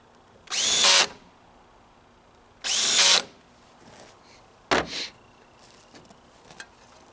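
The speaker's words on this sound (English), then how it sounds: "Run it down with the drill." An electric drill runs in two short loud bursts during a Tecumseh snow blower engine carburetor rebuild, followed by a brief clunk and a few faint knocks.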